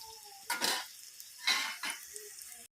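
Chopped onions, four small ones, frying in oil in a kadai with curry leaves nearby, giving brief bursts of sizzle and stirring scrapes in two or three short surges against a quiet background.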